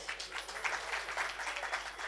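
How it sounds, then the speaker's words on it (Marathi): An audience applauding at a Marathi public lecture on the status of Bahujan women: steady, dense clapping, fairly quiet and continuous throughout with no speech over it. "आपण सगळ्यांनी जोरात टाळ्या वाजल्या पाहिजे एकदा."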